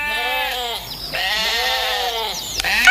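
Sheep bleat loudly and close by in long wavering calls, two or three overlapping cries with no talk.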